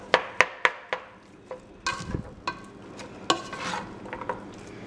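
Taco soup ingredients browning in a pot give off a soft sizzle, broken by sharp clacks and scrapes of a utensil against the pot, close and fairly quiet, with no one talking.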